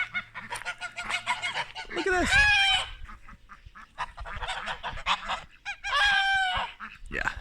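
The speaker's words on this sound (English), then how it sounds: "Yeah, they're geese. They're really loud." Geese honk loudly in repeated bursts, close by, with a short spoken remark mixed in among the calls.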